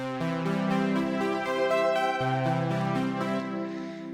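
A Serum synth arpeggio repeats a steady rising note pattern, its pitch transposed up by octaves partway through, continuous and clear with no voices.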